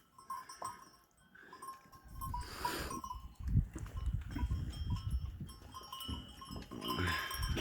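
Forty sheep and 1-2-month-old lambs bleat in short wavering calls at moderate distance, over a low rumbling barn ambience with shuffling and thumps.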